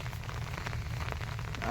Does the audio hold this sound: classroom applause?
no